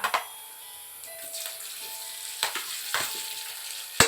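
Vietnamese pork sausage (moo yor) stir-fried in a small pan, a steady light sizzle with repeated clicks and scrapes of a utensil stirring against the pan.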